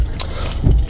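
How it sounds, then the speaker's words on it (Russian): Car keys jangle in a few quick metallic shakes, close and loud, with a faint low rumble beneath and no talking. "Значит, ключ от автомобиля."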